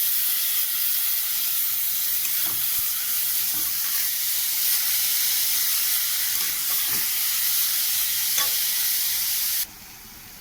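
Beetroot with whole dried red chillies fries in hot oil, a loud, continuous hissing sizzle close up, punctuated by occasional scraping stirs, before the sizzle drops abruptly near the end.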